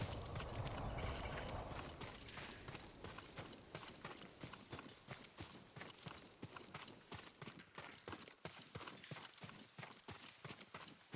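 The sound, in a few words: horse hooves clip-clopping in the video game Ghost of Tsushima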